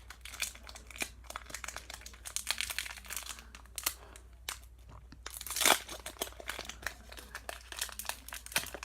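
Plastic wrapper of a trading card pack being carefully torn open by hand, giving a steady run of close crinkling and crackling with one louder crunchy burst partway through.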